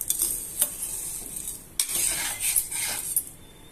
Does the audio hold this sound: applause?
no